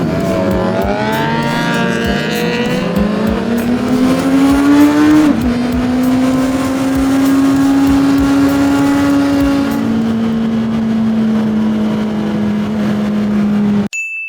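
Two sport bikes, a Kawasaki ZX6R and a 2024 Honda CBR 650R, idle and rev up close, with a rising engine pitch as one climbs in revs, then settling into a steady high idle drone that runs throughout.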